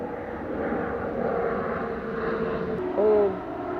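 An airplane passes overhead as a steady, broad roar that holds for several seconds, with a brief hooting tone rising near the end.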